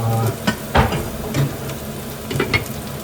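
Chili and ginger stirred in a hot pan for a Mediterranean-style trevally in tomato sauce, giving a steady close sizzle of frying with a few scraping stirs and clinks against the pan.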